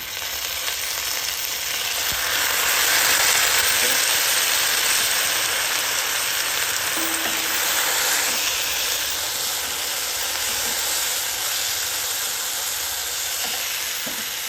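Chicken spaghetti with soy sauce and a Maggi cube sizzles steadily and loudly in a pan, a continuous hissing fry with occasional stirring clinks.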